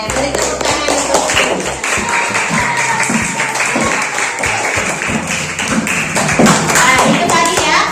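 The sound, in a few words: applause and clapping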